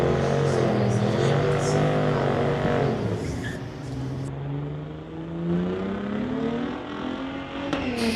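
A 1968 Pontiac with a 327 and a 1974 Corvette with a 454 roar together at a street-legal drag strip, loud engines revving and climbing through the gears with a brief drop between, under an announcer's voice.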